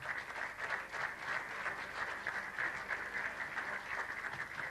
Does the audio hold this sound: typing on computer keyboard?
no